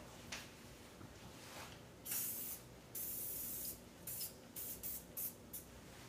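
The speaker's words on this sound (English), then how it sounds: "we're going to spray it on the surface" Several bursts of a stainless steel cleaner pump spray hiss up close onto an appliance surface, a couple of longer sprays followed by a quick run of short squirts, amid light rubbing noises.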